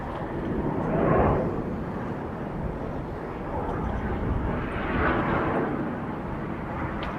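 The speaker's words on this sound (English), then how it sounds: "a Cessna Skyhawk touching down, landing long, presumably aware that he's not vacating the runway until the far end" A Cessna Skyhawk light aircraft touches down on a runway at an air show, its broadband engine and airframe roar held steady at moderate distance with gentle swells in level.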